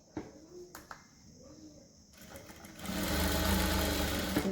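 A home sewing machine stitches a salwar seam, starting faintly and growing into a steady, loud mechanical whir over the last seconds of the clip.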